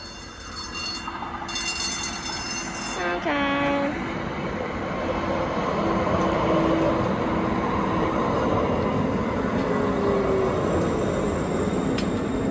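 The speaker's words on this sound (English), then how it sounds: "Hillsborough train's coming too" A light rail train arriving at Willow Creek MAX station, with brake squeals, a short horn-like tone, then a growing rumble and clatter of wheels as it rolls in, moderately loud; one brief spoken word.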